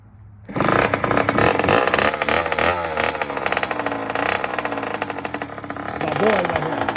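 A dirt bike engine starts up and holds a steady, buzzing rev, rising and falling slightly as a beginner rider pulls away, loud and close throughout.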